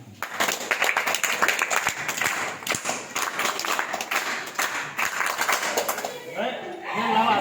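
An audience claps to welcome a guest, a dense patter of many hands that is loud and close, running for several seconds before voices start talking near the end.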